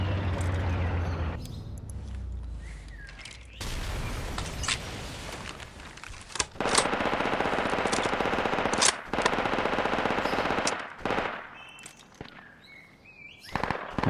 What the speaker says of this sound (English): I'm gonna relocate my machine gun now.